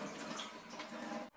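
Grapes being washed in water at home before wine making, with a steady broadband splash and running-water wash that continues evenly, then stops abruptly near the end.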